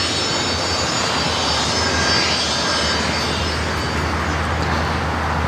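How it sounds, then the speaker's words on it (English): Frontier Airlines jet arriving at Los Angeles International from Dallas-Fort Worth, a loud, sustained engine roar with a deep low hum, constant and unbroken, with no voices. "This Frontier flight coming in from Dallas, Fort Worth, Texas"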